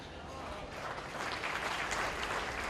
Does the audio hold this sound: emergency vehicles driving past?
no